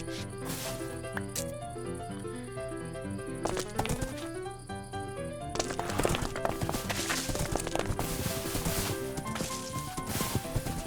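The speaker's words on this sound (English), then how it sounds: "Guess Pokey's more of a draft horse" Draft horse hooves clip-clopping in the New Londinium 1910 video game, steady rhythmic footfalls mixed with layered background music and ambience.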